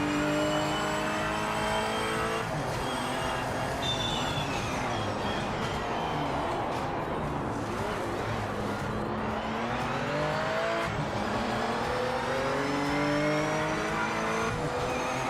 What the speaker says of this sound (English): Can you hear the car now?